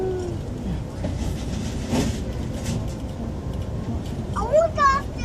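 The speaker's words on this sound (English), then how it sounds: "You see a choo-choo train?" Amtrak excursion train rolling along the track with a steady rumble and faint rhythmic clatter, heard from on board; a voice chirps briefly near the end.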